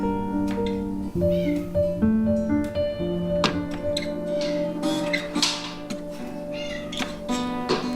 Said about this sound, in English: Are these cat noises in this?